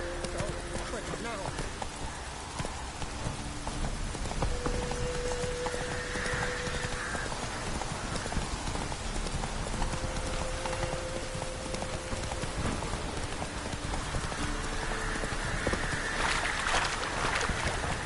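Horse hooves from The Witcher 3: Wild Hunt, continuous rhythmic clopping under a dense bed of ambient game sound and music, with rain-like hiss throughout.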